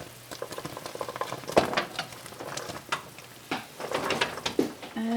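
Fresh jalapeño peppers for cowboy candy dropping into a pot of syrup at a rolling boil, a steady bubbling and soft sizzling patter with a few louder splashes and stirs, close and moderately quiet.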